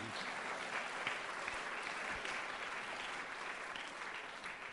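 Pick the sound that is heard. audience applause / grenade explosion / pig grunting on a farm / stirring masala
audience applause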